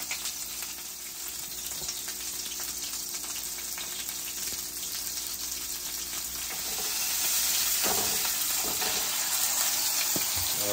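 Meat sizzles steadily on a griddle while being browned for a chopped cheese sandwich, a constant close crackle that swells louder toward the end.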